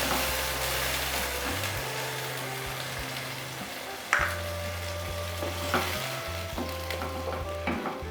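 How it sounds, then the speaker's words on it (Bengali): A paste of onion, garlic and tomato is poured slowly into a hot pan and sizzles steadily and loudly, with a low hum running underneath and a few sharp clinks and scrapes from the pan. "এবারে যে পেস্টটা তৈরি করা হয়েছিল পেঁয়াজ, রসুন এবং টমেটো দিয়ে, সেটা আমি আস্তে আস্তে ঢেলে দিচ্ছি।"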